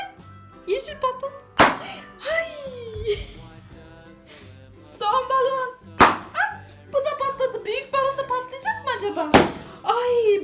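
Three sharp, loud balloon pops spaced a few seconds apart, with excited voices and squeals talking and reacting between them.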